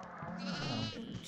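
A goat in the horror game Devour gives a single wavering bleat, close and clear, with no talking over it.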